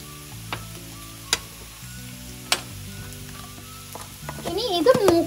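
Chicken masala mix frying in a pan on medium flame, a soft continuous sizzle punctuated by a few sharp stirring clinks, close by, with a brief faint voice near the end.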